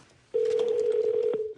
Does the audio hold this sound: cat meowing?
no